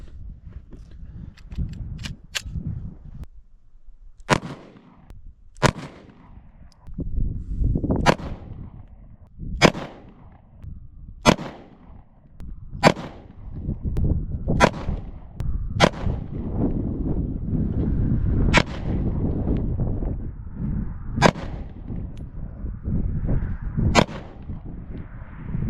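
A Springfield Hellcat Pro pistol fires at an outdoor winter range, about a dozen sharp, loud shots spaced a second or two apart over a rumbling background.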